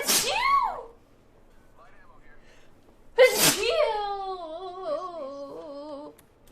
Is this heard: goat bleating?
no